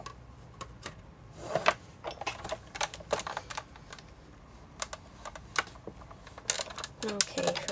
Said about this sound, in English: I'm going to go ahead and cut that in my die cutting machine